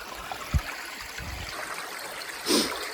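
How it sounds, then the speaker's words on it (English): Small freshwater mountain stream on Quinag trickling over stones, a soft continuous burble close by, with a brief rustle or knock and a short louder splash toward the end. "So here's a nice wee source of fresh water."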